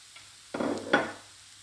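Minced meat with leek and carrots sizzling in a pan, a short burst of frying as the food is stirred, close and fairly quiet, with no talking.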